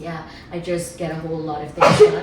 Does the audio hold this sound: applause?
no